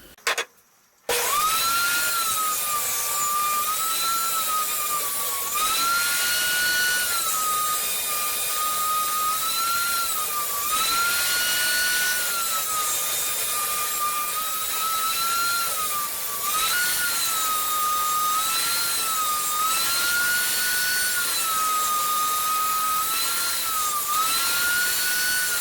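A power tool cuts wood into 2.5 centimeter strips in a workshop, producing a loud, steady whining roar that rises and dips slightly with each pass and runs almost continuously after a brief start.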